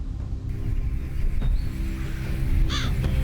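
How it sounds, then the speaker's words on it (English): Crows cawing in a short burst of calls as flocks of birds arrive over Beijing in cooling weather, heard above a steady low rumble of city traffic and ambient noise. "As the temperature gradually drops, armies of birds arrive in Beijing,"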